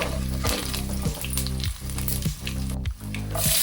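Crushed garlic cloves and broken dry red chillies fry in hot oil, giving a loud, dense, continuous sizzle close by with no voices.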